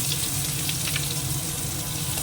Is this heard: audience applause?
no